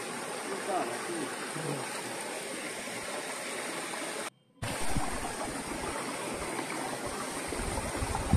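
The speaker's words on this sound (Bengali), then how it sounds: "জলের আওয়াজ শুনে বুঝতেই পেরে গেছেন সেই ঝর্ণাটি" A waterfall in a hill forest at Kuhuburu hill in Purulia roars in a steady, close, dense rush of falling water that continues almost unbroken, with only a brief gap.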